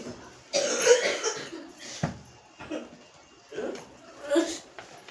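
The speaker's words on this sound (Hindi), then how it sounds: "आज तेरी खांसी ठीक ही नहीं हो रही है बेटा" A few harsh coughs come in short bursts, close by, with pauses between them and some background noise.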